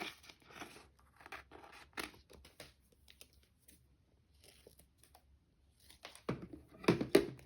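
Scissors snipping through a clear sticker to cut it off its backing sheet, close and quiet, with scattered short cuts and a louder run of snips near the end.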